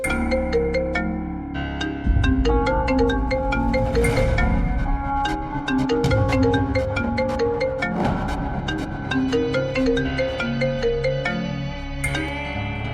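A melodic phone ringtone plays steadily and loudly, looping its tune with no one speaking.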